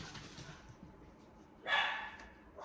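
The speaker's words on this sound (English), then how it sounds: "Oh, sorry, the dogs are barking." A single loud dog bark stands out against a quiet background, with fainter yips and whimpers before it and another bark starting at the end.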